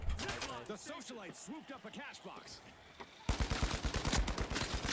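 Automatic gunfire in the shooter game The Finals: after a stretch of voices and lighter game sounds, loud rapid bursts of shots hammer in close and keep going without a break.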